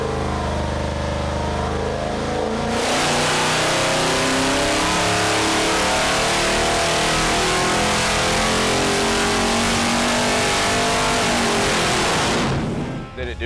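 Twin big-block engines on a dyno roar up sharply and hold a loud, sustained revving howl for about ten seconds at full throttle, then cut off abruptly.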